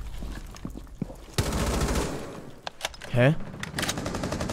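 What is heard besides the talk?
gunfire in the video game Rainbow Six Siege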